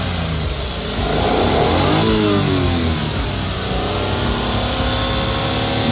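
Suzuki DA17V van engine revving up from idle, climbing in pitch and then holding a raised rev, close and loud with a steady mid-range drone.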